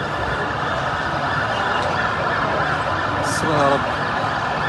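A fire engine siren arriving at a large petrol station fire, heard wailing at a distance under a steady roar of crowd noise, with a voice praying over it.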